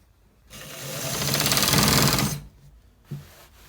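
A sewing machine stitches a designer collar shirt in one steady, rapid whirring run of about two seconds, close and clear, followed by a single sharp click amid near silence.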